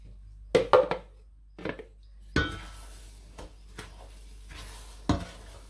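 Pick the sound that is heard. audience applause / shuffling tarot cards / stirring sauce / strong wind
stirring sauce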